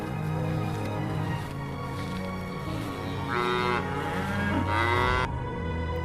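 Buffaloes in a stable lowing repeatedly, long deep moos overlapping from more than one animal, fairly near and loud, with stable noise beneath.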